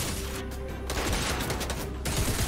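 Rapid gunfire in Fortnite aimed at a player's built structure, a dense volley of shots with sharp bursts of noise that pause briefly and then resume, loud and close.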